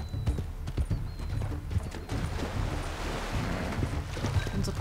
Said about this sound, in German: bring ihn nach Hause, Pferdi